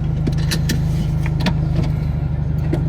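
A 2015–2017 Subaru WRX with a REMARK muffler delete rumbles from inside the cabin with the windows up, a steady deep low exhaust drone while driving around the block.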